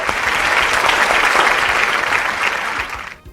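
A crowd claps in a dense burst of applause after a dance performance. The clapping is loud and steady for about three seconds and then cuts off abruptly.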